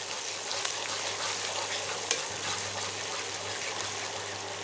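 Paste of boiled, ground onion frying in a pan for a Bengali fish rezala, a steady hissing sizzle with a low hum beneath and occasional faint stirring scrapes, continuous and close.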